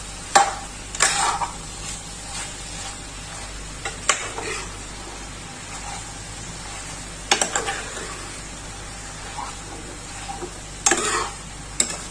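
Chicken browning in a pan for chicken chilli, a quiet sizzle underneath sharp, intermittent spatula scrapes and clanks as it is stirred, close by with no speech.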